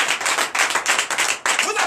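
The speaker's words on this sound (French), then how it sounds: "Donnez l'acclamation à notre Seigneur." A church congregation at a Sunday service in Comè, Benin, claps in acclamation, loud rhythmic bursts of hand claps in quick regular beats with voices mixed in.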